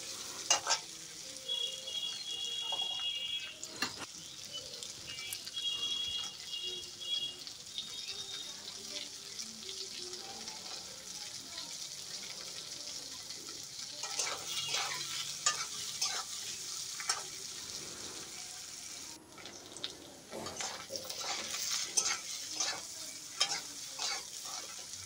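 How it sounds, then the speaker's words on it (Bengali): Potato and pre-boiled taro pieces fry in a pan with tempered spices, a steady sizzle running throughout with frequent scraping stirs and utensil clinks, at moderate loudness and with no talking. "একটু ভাজা ভাজা করে নেব।"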